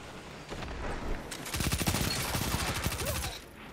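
Rapid SMG gunfire in a first-person video game shooter, a fast burst of shots rattling off steadily for a couple of seconds at close range, set against a busy game soundscape.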